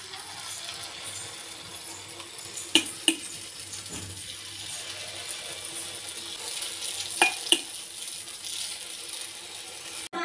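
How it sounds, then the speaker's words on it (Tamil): Sweet kuzhi paniyaram batter sizzling steadily in the wells of a paniyaram pan, a soft continuous frying hiss broken by a few sharp metallic clicks of a utensil against the pan. "இந்த குழிப்பணியாரம் செட்டில் வந்து இனிப்பு குழிப்பணியாரம் ஊற்ற போகிறோம்."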